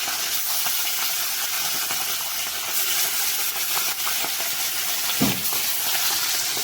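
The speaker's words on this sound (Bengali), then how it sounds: "তেলটা ভালো করে গরম করে নিয়ে এই যে মাছগুলো ভাজছি" Fish frying in well-heated oil, a steady broadband hiss and sizzle running close and continuous throughout, with a brief louder crackle near the end.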